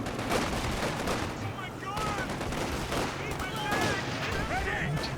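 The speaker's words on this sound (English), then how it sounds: "Anti-tank grenades coming through from Manstein." Anti-tank grenades and gunfire in the World War II strategy game Company of Heroes 2, with dense, continuous battle noise, rattling shots and explosions filling the scene, while a commentator talks over it.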